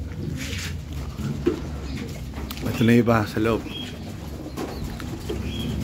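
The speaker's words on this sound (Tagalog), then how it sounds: "Ito yung mga ibon." Pigeons cooing in a birdhouse in light rain, a couple of soft throaty coos close by over steady background noise, with a person briefly speaking.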